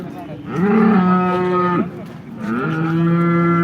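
Cows at a busy cattle market give two long, drawn-out moos, one after another, close and loud over faint background noise.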